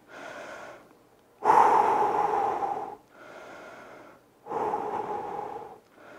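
Heavy breathing during a home fat-loss workout: four long, close breaths, alternating softer inhales with louder, forceful exhales, each lasting over a second, with no talking.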